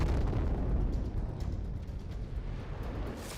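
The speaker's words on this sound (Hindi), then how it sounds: "सैकड़ों ड्रोन अचानक आते हैं और फिर धमाके शुरू हो जाते हैं" Deep, rumbling booms of explosions from a drone attack on Kyiv roll on continuously, heavy and muffled, with no voices.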